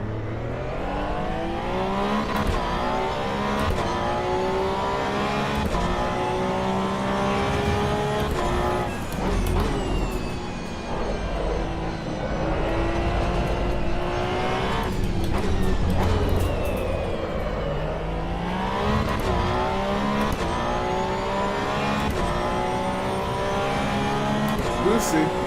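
A race car engine in Assetto Corsa Evo howls steadily through upshifts and downshifts at high revs, loud and continuous for the whole stretch, with people talking over it.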